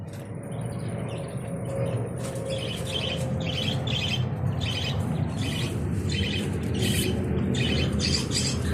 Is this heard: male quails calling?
yes